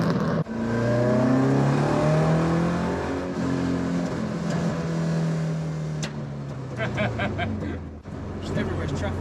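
A Zetec-engined Mk2 Ford Escort four-door drives along with a steady engine drone that rises and falls as it accelerates, heard from inside the car, with some light rattles near the end.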